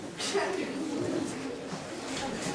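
Pigeons coo outdoors in a low, soft, rolling murmur that repeats through the moment, with a person talking over them.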